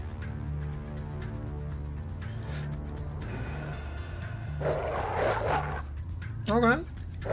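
Dog barks and whimpers in the video game Shadowrun: Dragonfall, brief yelps rising over steady game music with someone talking throughout.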